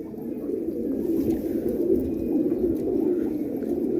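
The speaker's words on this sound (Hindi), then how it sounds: "छत पे फिर रहे हैं कुछ परिंदे तो कितना खूबसूरत लग रहे हैं।" Multani pigeons coo on a rooftop in a low, continuous, rolling murmur that stays steady throughout, close and moderately loud, with no speech.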